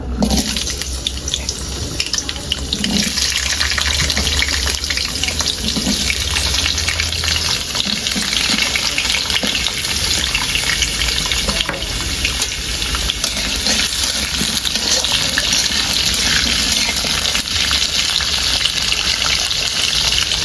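Potatoes fry in hot oil for a hilsa fish curry, a steady loud hiss and crackle that holds for the whole stretch with no speech.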